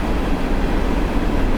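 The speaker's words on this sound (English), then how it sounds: "Man, that train is wrecking this." A train rumbles loudly and steadily nearby at Crybaby Tunnel, a dense, continuous low roar and rattle of passing rail cars with no voices over it.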